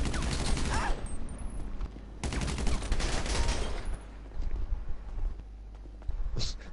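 A video game firefight with rapid bursts of gunfire rattling in loud clusters, separated by brief lulls, across a few seconds of noisy game audio.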